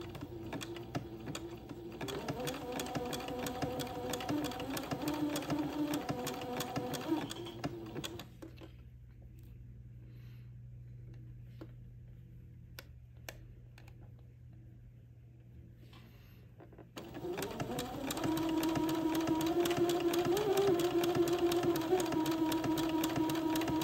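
A sewing machine zigzag-stitches gathered lace onto fabric for a day gown, running steadily with a fast rhythmic whir, pausing for several seconds of quieter hum midway before starting up again; no talking.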